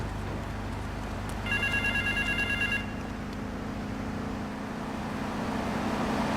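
A telephone rings in Grand Theft Auto 3 with a bright electronic trill lasting under two seconds, moderately loud over a steady low hum of city traffic and engine drone.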